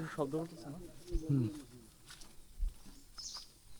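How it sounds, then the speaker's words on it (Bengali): Birds calling in the Sundarban forest: soft pigeon-like coos and a few faint chirps sound at moderate distance, mixed with a person speaking quietly and some low thumps. "কি সুন্দর পাখির শব্দ"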